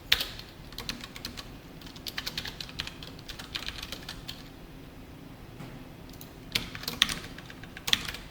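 Someone types code on a computer keyboard in a steady run of close, soft key clicks with uneven rhythm and a few louder taps.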